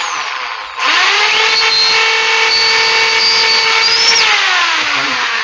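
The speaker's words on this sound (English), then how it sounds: "Okay, take a bigger drill this time." Power drill boring a hole in a model plane whirs up sharply after a short quiet moment, then holds a steady, loud, close whine with slight pitch wavering before winding down at the end.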